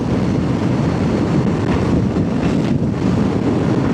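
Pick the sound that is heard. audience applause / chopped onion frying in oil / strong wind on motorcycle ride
strong wind on motorcycle ride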